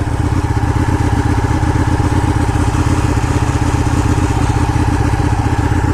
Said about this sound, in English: About the Ducatis is they just crank slow.